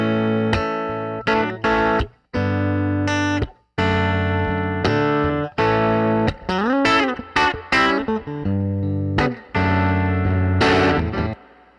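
An electric guitar plays through an amp with a mid-60s Fender spring reverb tank, giving loud, bright, sustained single notes and short chord phrases with slides that ring out and decay between gaps.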